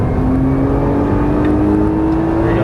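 A Nissan GT-R accelerates on a race track, a loud, steady engine drone whose pitch climbs gradually throughout.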